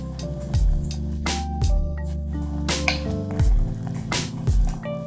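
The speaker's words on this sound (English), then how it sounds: "First, mix everything with a spoon." A spoon stirs cheese roll dough mixed with oil, giving repeated wet squishing and slapping strokes, close and fairly loud, in an uneven rhythm.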